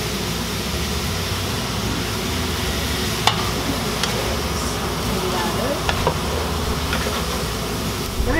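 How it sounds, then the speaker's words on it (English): Mustard greens seasoned with fish sauce sizzle steadily in a hot pan, a constant close frying hiss broken by a few sharp clicks of stirring. "I'm just gonna saute this until everything is nice and hot."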